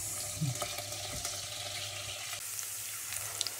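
Garlic and onion sautéing in a pan for ginisang munggo, a quiet steady sizzle with faint stirring clinks, close by and with no talk.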